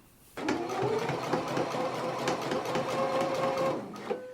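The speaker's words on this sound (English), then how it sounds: "let's go ahead and stitch down this facing right along this inner fold now" A sewing machine stitches a jacket facing down along its inner fold, starting abruptly and running in one continuous steady buzz of rapid needle strokes, close and alone.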